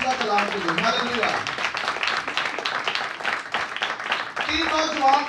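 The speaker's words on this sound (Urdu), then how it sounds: "زیادہ تالیاں خدا کے سیدھا کلام کے لیے" Congregation applause during an Urdu church sermon, a dense steady wash of many hands clapping that fills the whole stretch at even loudness, with a voice heard over it at the start and end.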